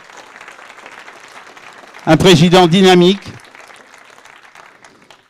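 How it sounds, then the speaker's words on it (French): At a Félibrige gathering in Saint-Étienne-du-Grès, France, someone speaks French over a faint crowd murmur, then a loud burst of applause swells and fades back into the hubbub. "on peut l'applaudir très fort"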